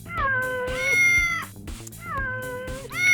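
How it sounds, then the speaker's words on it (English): Pet cats meow and howl in two long, drawn-out wailing calls. They are loud and close, with a short pause between the calls and a third starting at the end. "my kitty cats are howling because they heard the word cream"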